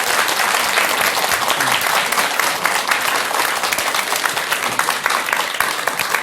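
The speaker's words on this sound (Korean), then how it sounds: "오늘 귀한 말씀해 주신 스님께 여러분 큰 박수 부탁드립니다" A studio audience gives sustained, loud applause for a visiting monk, dense even clapping that carries steadily throughout without any voices.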